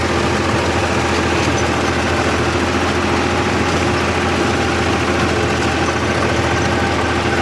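A loaded-free diesel farm vehicle engine idles steadily at close range in a Tamil Nadu village field, a constant low rumble with vibration and no breaks throughout.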